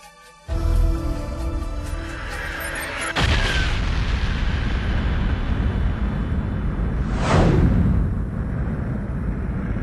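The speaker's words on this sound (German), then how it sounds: "vor etwa 15 Milliarden Jahren habe eine gigantische Explosion stattgefunden" An explosion sound effect depicting the Big Bang hits suddenly, followed by a second heavy boom that settles into a sustained deep roar, with a whooshing sweep passing through near the end.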